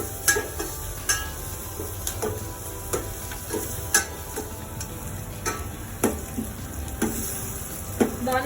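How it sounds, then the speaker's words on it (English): Onions softening in a pan with turmeric over a medium flame, sizzling steadily while a spoon scrapes and taps the pan in a loose, repeated rhythm, close and clear. "Let the onions become soft."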